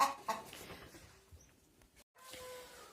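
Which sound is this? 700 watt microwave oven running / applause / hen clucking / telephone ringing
hen clucking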